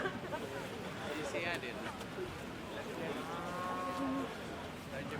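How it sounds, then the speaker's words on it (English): Cows across a river mooing in long, drawn-out calls from a distance, with faint voices and outdoor ambience of a car meet around them. "we're being serenaded by the cows across the river."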